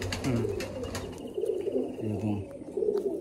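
Pigeons in a loft coo repeatedly and close by, soft throaty rolling calls coming in overlapping bursts every second or so, with faint background noise between them.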